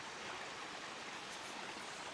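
A stream and waterfall flowing at a New Zealand campsite: a steady, even broadband rush of water continues unbroken throughout, moderately distant and calm, with no voices over it.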